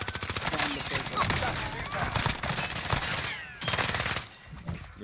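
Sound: gunfire in Call of Duty Rebirth Island video game

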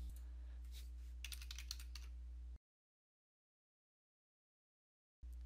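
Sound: typing on a computer keyboard

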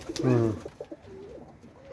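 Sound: pigeon cooing

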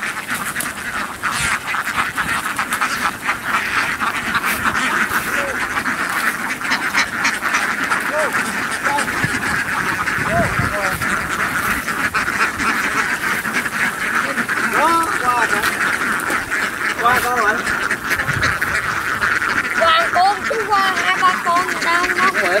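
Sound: ducks quacking at a duck farm in rice fields

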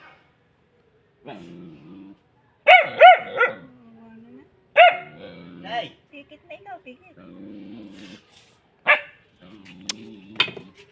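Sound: dog barking

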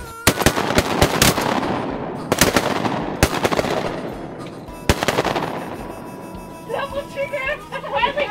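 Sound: shotgun shots at ducks during a hunt

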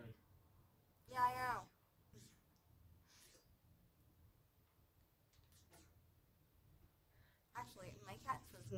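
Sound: person imitating a cat meow

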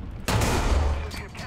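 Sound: AUBL/74 gun firing in the video game War Thunder

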